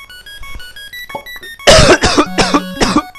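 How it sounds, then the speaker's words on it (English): A gamer coughs into a microphone while playing I Wanna Be the Guy, several close, loud, harsh bursts in quick succession after tinkly game music. "Damn cough."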